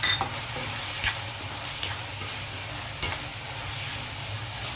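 Prawns and onions fry in a pan as tomato goes in, a continuous sizzle broken by a few sharp scrapes and clinks of a stirring spoon against the pan.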